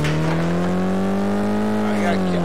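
A video game car engine drones steadily and loudly at night, its pitch rising slightly as it nears, with a faint voice underneath.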